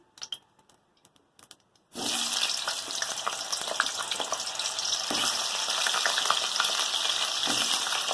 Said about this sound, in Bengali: তেলটা গরম হয়ে গেছে, এবার কেটে রাখা আলুগুলো দিয়ে দেবো।